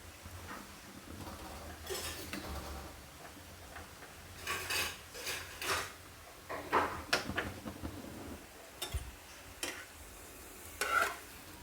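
Sprouted moong and jowar flour flatbread crisping on a hot griddle, with a soft low sizzle broken by repeated scraping and tapping from a spatula, fairly quiet overall.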